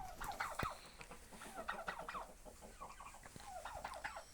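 Turkeys gobbling nearby on a poultry farm, repeated warbling bursts from several birds overlapping, with a sharp click partway through.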